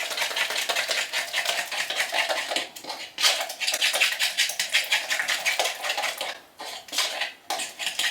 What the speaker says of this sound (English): Two eggs in, and then just give it a really good stir.